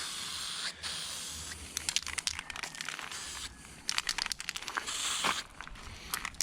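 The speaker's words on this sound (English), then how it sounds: "Good old backyard spray can job." An aerosol spray paint can hisses in a backyard as chrome bumpers on a 1964 Ford Galaxie with a 460 big-block are painted, coming in repeated short and longer bursts with crinkly crackles, close and fairly loud.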